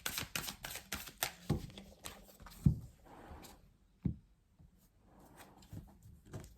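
Tarot cards being shuffled by hand, a run of soft papery riffles and slaps with a few sharper taps, close and fairly quiet, with no voice over it.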